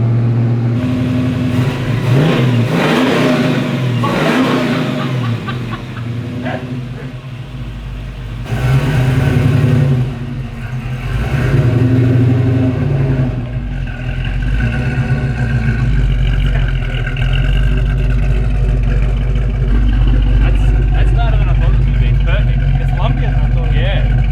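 A sand rail buggy engine, started for the first time, revs hard and loud, rising and falling in repeated bursts, with people talking over the roar nearby.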